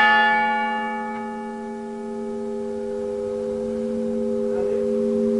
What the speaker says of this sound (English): Who rings a bell 14 times?